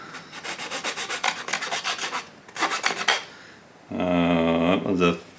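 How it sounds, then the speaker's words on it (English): Flat bastard file rasping along the cut edge of a high impact polystyrene sheet, a series of quick rhythmic strokes in two bursts, close and moderately loud, followed by a brief tonal scrape. "So we can just use a file."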